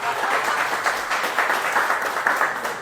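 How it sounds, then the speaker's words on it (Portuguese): A church congregation claps together during a service, a close, full burst of steady hand clapping with a slightly pulsing rhythm, loud and alone without talk. "Palmas para o Iveraldo."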